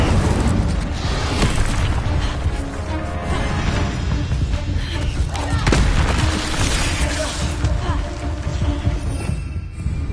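Incendio fire spell cast in Hogwarts Legacy, a loud, dense roaring burst of flame and rumble that runs continuously throughout, with a voice speaking over it.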